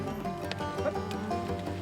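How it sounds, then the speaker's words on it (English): Cattle being loaded onto a livestock truck in New Zealand: a steady low rumble runs throughout, with scattered knocks and clatter and a brief animal call partway through. "But cattle can be unpredictable during loading."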